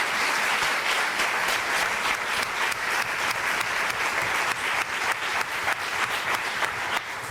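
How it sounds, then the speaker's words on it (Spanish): Audience applause for the organizers at a psychology talk, steady dense clapping from a large crowd lasting the whole stretch without pause. "os pediría ya de entrada un aplauso para ellos"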